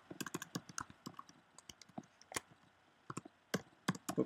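Keystrokes on a computer keyboard while entering Mathematica code, irregular quiet clicks in short bursts with pauses, close and dry, no talking.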